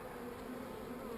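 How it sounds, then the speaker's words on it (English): Bees hum around hive frames in a steady, dense buzz, close and continuous, fairly faint overall. "I've got a lot of bees down here"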